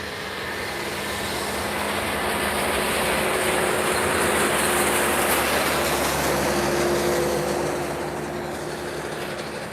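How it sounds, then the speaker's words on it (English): Jet engine roar of an EasyJet Airbus A320neo at Lisbon Airport, a broad steady rumble that swells toward the middle and eases off near the end, loud and continuous with no talk. "A320 Neo by EasyJet."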